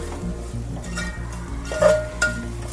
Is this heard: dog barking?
no